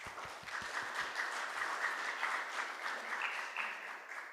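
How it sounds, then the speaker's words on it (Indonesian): A Salvation Army church congregation in Bandung claps together during a Sunday service, a steady round of applause. Several low thumps are heard near the start. "Beri tepuk tangan untuk mereka yang melakukan pelayanan hari ini."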